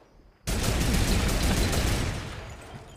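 Dense Fortnite gunfire bursts in abruptly and stays loud and continuous, a rapid overlapping volley that tapers slightly toward the end.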